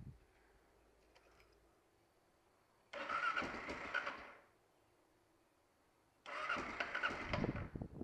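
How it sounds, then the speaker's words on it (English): A Kawasaki KLR650 motorcycle engine cranks and catches twice, each burst of roaring revs lasting about a second before cutting out, with quiet pauses between. "So let's start it up and give it a listen"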